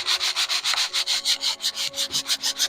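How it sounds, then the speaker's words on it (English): Hand sanding of a wooden terrain base, a steady back-and-forth scratchy rasp repeating in an even rhythm of quick strokes, close and fairly loud with no talk. "I hope you can hear the microphone over the top of me sanding"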